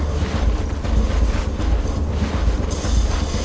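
A train passes in the open-world game inFamous, a steady low rumble with rhythmic clickety-clack pulses running loud and continuous throughout, no talking over it.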